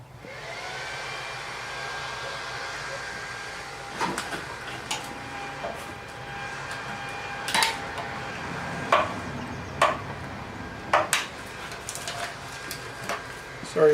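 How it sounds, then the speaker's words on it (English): A neighbor's blower clearing off a roof drones steadily in the background, with irregular clunks and knocks from nearby work rising over it in the second half. "our neighbor is blowing off his roof."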